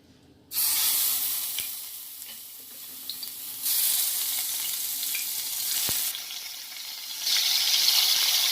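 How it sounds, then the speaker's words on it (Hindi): Paneer pieces dropped one by one into hot oil, each bringing a sudden loud hiss that settles into a steady close sizzle and swells again as more pieces go in, with no voices. "देखंतु तेल भी गरम हो गला, एथिरे आमे पनीर पकेबा।"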